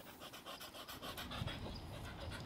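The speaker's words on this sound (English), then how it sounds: "he's panting like crazy" An excited dog pants rapidly and steadily up close, a quick rhythmic huffing breath that runs without a break for a couple of seconds, faint in level with no talking.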